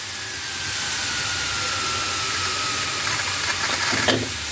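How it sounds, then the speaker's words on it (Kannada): Steam rushes from a pressure cooker in one steady, close hiss that holds for several seconds. A brief clatter comes at the very end. "ಕುಕ್ಕರ್ ತೆಗಿಬೇಕಾದ್ರೆ ತುಂಬ ಬೇರೋ ಗಾಳಿಯೆಲ್ಲ ಬಿಟ್ಟು ತೆಗೀರಿ"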